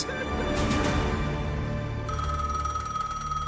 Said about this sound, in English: Then, 12 years into her marriage, Myra gets a phone call that will ultimately destroy the relationship.